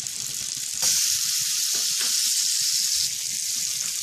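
Butter melts and sizzles in a pan already used to sauté vegetables, a steady close frying hiss throughout, briefly louder in the middle with faint stirring clicks underneath.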